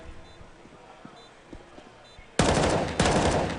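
Gunfire in the CS:GO video game during an esports finals at a stadium: faint distant pops at first, then two loud, close bursts of rapid rifle shots near the end.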